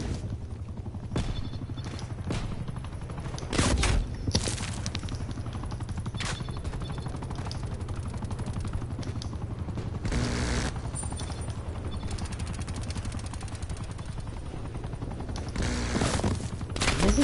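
Automatic gunfire in the shooter game Call of Duty Cold War rattles in long bursts with several sharper single cracks along the way, moderately loud, set against a steady background hum and no clear talk.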